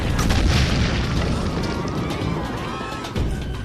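Heavy cannon fire at the siege of Constantinople, a dense, continuous rumbling roar of booming blasts that fills the scene and stays loud throughout.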